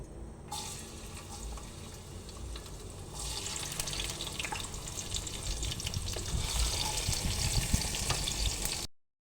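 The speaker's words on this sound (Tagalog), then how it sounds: "Mag-gisa na tayo" Palabok ingredients sautéing in a pan, a steady sizzle and hiss that swells louder partway through, with clinks and scraping of stirring and some running water nearby, no talking.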